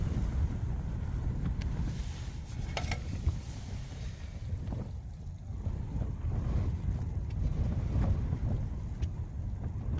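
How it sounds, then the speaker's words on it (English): Strong, steady wind blows across a wet mountainside, a dense low roar with gusting swells and occasional buffeting bumps against the microphone, continuous for the whole stretch with no voices. "On the mountainside, wet and windy,"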